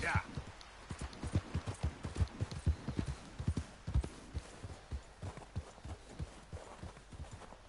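Horse hooves clip-clop at a steady walking rhythm in Red Dead Redemption 2, many evenly spaced hollow knocks close by, with faint voices talking underneath.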